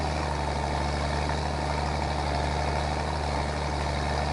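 Older manual tractor in Farming Simulator 22 idling with a steady, heavy low engine drone, loud and constant throughout, no voices.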